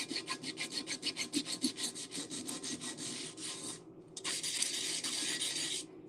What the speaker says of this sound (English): I'm not going to sand as hard as I am now trying to get this off.